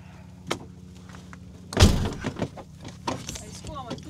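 Car doors closing inside a drift car, with a heavy thunk standing out near the middle among lighter clicks and knocks, while people talk nearby.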